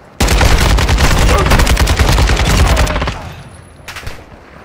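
Gunfire in the DMZ video game, a loud close burst of rapid automatic shots for about three seconds, then tailing off into a few scattered shots.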